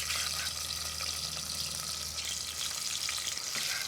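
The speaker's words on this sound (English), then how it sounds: "As soon as you've got onions frying" Onions frying in olive oil in a pan, a steady broad sizzle with crackle, fairly soft and continuous, no talking.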